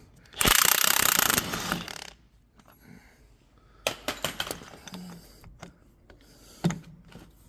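A socket wrench ratchets against the end of a hydraulic ram on a Ford Puma under repair, giving a loud dense burst of clicking up front, then sparser metallic clicks and clinks at close range with no talk.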